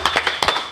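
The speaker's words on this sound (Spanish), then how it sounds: "Un fuertísimo aplauso" An audience claps in a quick, uneven run of sharp claps, close and fairly loud, at the end of a podcast episode.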